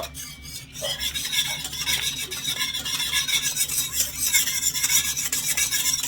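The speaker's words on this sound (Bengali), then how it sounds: "দুই টেবিল চামচ দিয়ে দিচ্ছি গুঁড়ো দুধ ভালো করে মিশিয়ে নেব" Powdered milk is stirred into boiled milk in a pot, with continuous close scraping and rubbing of a spoon against the metal and a faint simmer underneath, the stirring rhythmic and unbroken.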